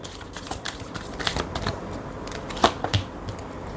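Intuitive oracle cards being shuffled by hand, a run of soft papery riffles and flicks with a sharper snap near the end, close and alone with no talking.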